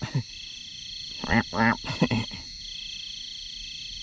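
Frogs croak at night in a few short, close bursts bunched in the middle, over a constant high chirring of night insects.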